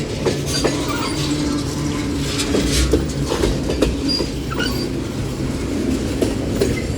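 Union Pacific mixed freight train passing Central Avenue in Metairie, a steady loud rumble of railcars with rhythmic wheel clatter and brief squeals, continuous throughout with no voices.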